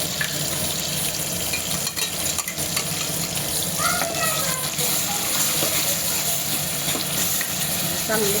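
A paste of ginger, garlic, sesame, onion and tomato fries in oil, giving a dense, steady sizzle with occasional stirring scrapes, close and fairly loud throughout.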